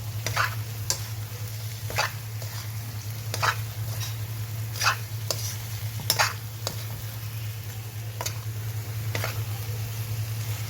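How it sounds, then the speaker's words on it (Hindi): Boiled potatoes being stirred into a spice masala in a pan with drumstick (sajina), a steady low sizzle under repeated scraping and squishing strokes of the spoon, close by. "इस तरह से सभी आलू को मैं मसाला में डाल दी हूँ और इसे अच्छी तरह से मिक्स करनी है।"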